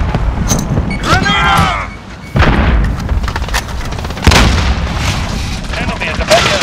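A deep booming grenade blast in Modern Warfare gameplay, one loud burst followed by lingering rumble and scattered game gunfire, with in-game voices calling out around it.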